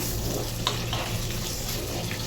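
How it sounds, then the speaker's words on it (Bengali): Onion, green chilli and chopped garlic fry in oil with a steady, dense sizzle close up, one small clink near the start. "এখন পেঁয়াজটাকে ভালো করে তেলের সঙ্গে ভেজে নিতে হবে।"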